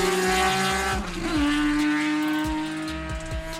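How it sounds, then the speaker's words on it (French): A tuned Nissan Skyline GT-R R34 engine revs loud and close, its rasping tone climbing and dropping through several sharp gear changes, with no voices. "le bruit qu'elle fait quand elle est préparée"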